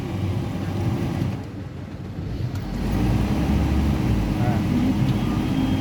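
A car's engine idles and runs steadily during a driving lesson, a low, continuous rumble close by that swells slightly toward the end, with faint wind noise and occasional voices.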